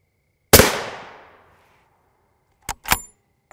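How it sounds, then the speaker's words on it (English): A gunshot strikes a ShotStop Duritium IV+HS Level IV body armor plate with a single loud, close crack and a long ringing tail, followed about two seconds later by two quick, sharp clanking impacts. "This first shot will be in the upper left of the plate where I place all those shots."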